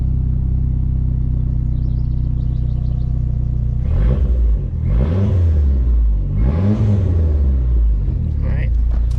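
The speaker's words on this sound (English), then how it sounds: "Engine starts right up." A Dodge SRT-4 engine idles with a steady low rumble after a new engine control module install, then revs up three times in rising and falling surges, loud and close.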